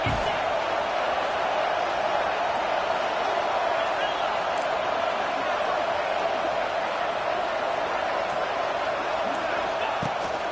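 A packed football stadium crowd roars steadily and loudly on a big third down, a dense, unbroken wall of cheering that lasts throughout.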